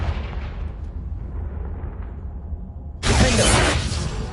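A Confringo fire-blast spell cast in Hogwarts Legacy on PS5 bursts out as a loud, sudden explosive crash after a stretch of low rumbling game ambience, its roar sustaining to the end.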